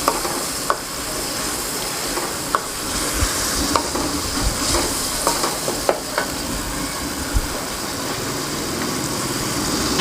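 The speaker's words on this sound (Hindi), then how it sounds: "अब हम इसमें थोड़ा सा लहसुन अदरक का पेस्ट डालेंगे ताकि हमारे कीमे की जो है ना स्मेल ख़त्म हो जाए" Garlic ginger paste for keema sizzles and fries in a pan, a steady close hiss with scattered clinks and scrapes of a spoon stirring, and no talking.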